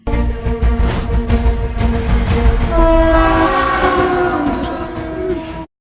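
A train rumbles along railway tracks with a rising horn tone, loud and close, then cuts off abruptly.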